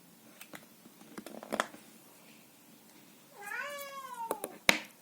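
A cat gives a drawn-out, whiny meow near the end, preceded by scattered light clicks and rustling close by.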